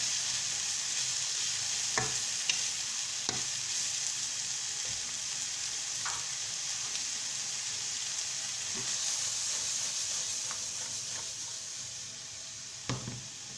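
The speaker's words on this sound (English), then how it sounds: "allow it to fry a little bit." Quiche filling fries steadily in a pan after cumin is added, a continuous broad sizzle with a few soft clicks of a utensil scattered through, close and fairly even.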